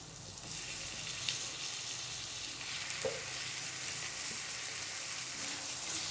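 Quarter kilo of chicken sizzles and fries steadily in a pan with chili and coriander powder for chicken korma, a continuous hiss with occasional stirring clicks.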